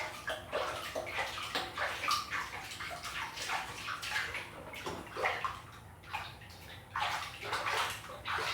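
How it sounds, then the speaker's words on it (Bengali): Water is poured from a mug over someone bathing, with repeated splashing pours coming in quick bursts throughout, close and fairly steady. "তুমি এটা কিসে স্নান করো মগে?"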